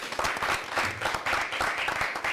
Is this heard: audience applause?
yes